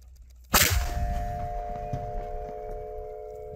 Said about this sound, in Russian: 240-миллиметровый калибр миномета возвещает об ударе на всю округу гулким звоном орудия